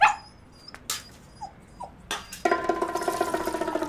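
A dog whimpers and yips in a few short, high bursts over a quiet background, then a louder, steady rustling noise takes over.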